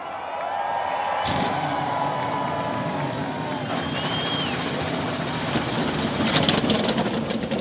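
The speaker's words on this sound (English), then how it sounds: "Drivers, start your engines!" A loud, steady roar of many NASCAR Cup Series engines firing up together at Darlington Raceway, with bursts of crowd noise over a constant rumble.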